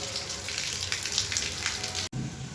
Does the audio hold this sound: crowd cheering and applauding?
no